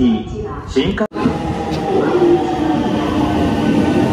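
Passenger train ride with a steady rolling rumble and rattle of the railcar, briefly cut near the start, while people talk over it.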